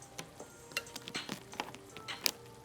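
Rice fries in a skillet for shrimp fried rice, a faint close sizzle punctuated by irregular spatula scrapes and clicks, with no one speaking.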